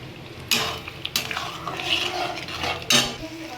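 Soybeans and potatoes frying in spice masala over lowered gas, stirred with a metal spoon: sharp scrapes and clinks against the pan at irregular intervals over a soft sizzle.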